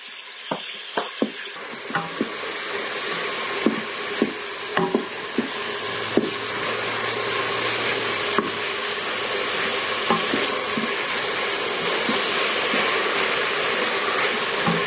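Softening vegetables sauté in a pan for a potato soup, giving a loud, steady sizzle broken by frequent clicks and scrapes of a utensil stirring them. No one speaks.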